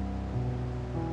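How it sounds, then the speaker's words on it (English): A real creek flows steadily outdoors, a continuous broad wash of rushing water with a low rumble, even and unbroken throughout. "The sound of the creek is hypnotic."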